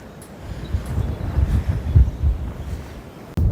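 Gusty wind buffets the microphone in low, uneven rumbles that swell and fade in southern Aveyron, France, with a sharper gust at the very end.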